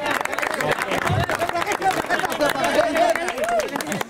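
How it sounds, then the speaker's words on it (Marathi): Audience clapping and applause at a prize distribution ceremony for the Shree Shitladevi Premier League (SPL) 2025 cricket tournament, steady and sustained for several seconds with crowd chatter mixed in. "खूप साऱ्या टाळ्या"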